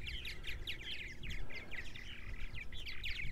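A flock of purple martins chirps and twitters constantly during feeding, with dense overlapping high calls that are fairly close and steady, and no voices.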